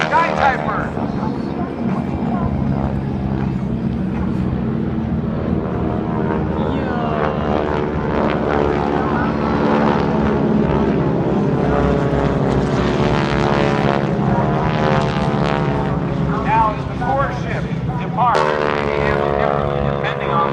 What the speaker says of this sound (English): Six aircraft from your Geico Skypipers.